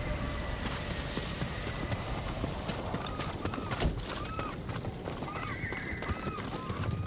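Horses in the Ghost of Tsushima video game clop their hooves over a busy outdoor ambience, with a few short whinnies rising through the middle and later part.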